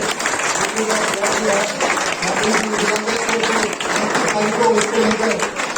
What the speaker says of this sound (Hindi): आप जरा जोरदार तालियां सबकी ओर से